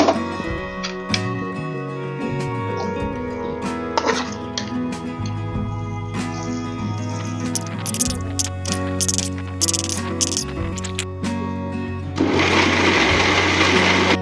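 A mixer grinder starts up near the end, grinding cooled fried ingredients into a paste for a dhaba-style paneer curry, a loud, dense whirr following a stretch of rattling, ticking kitchen sounds.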